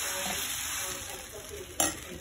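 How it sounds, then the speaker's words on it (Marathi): A dosa cooking on a hot pan, a faint steady sizzle with a brief louder scrape or clatter near the end, and no talking. "गाईज मी डोसे करत आहे।"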